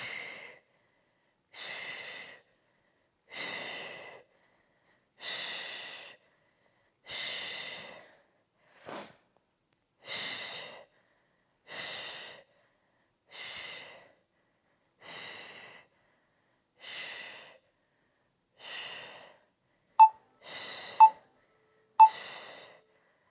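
Steady exhale and inhale breaths during a prenatal lower-body workout doing fire hydrant exercises, repeating in an even rhythm about every two seconds, close and fairly soft, with a few sharper short puffs near the end.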